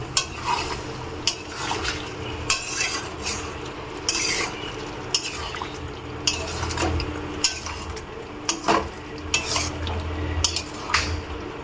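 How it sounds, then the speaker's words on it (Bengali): A spoon scrapes and clinks against a pan while dhaba-style chicken curry is stirred after a splash of yogurt water goes in, producing repeated sharp metallic knocks over a wet, bubbling base; nobody speaks. "এবার আমি একটু ঘেটে নিলাম"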